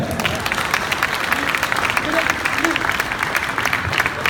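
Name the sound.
audience applauding taekwondo athletes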